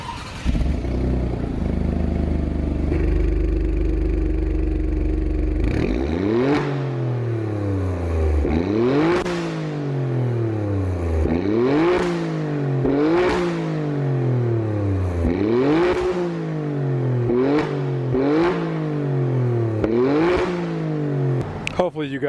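Alfa Romeo Stelvio Quadrifoglio in Misano Blue revving hard in a run of about seven sharp throttle blips, each rising to a roar and falling back, loud and close after a steady idle rumble.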